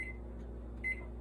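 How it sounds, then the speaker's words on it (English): A microwave oven heats white chocolate, humming faintly and steadily with a couple of brief high tonal chirps over the low drone. "So I'm just gonna put my white chocolate in the microwave for 30 seconds."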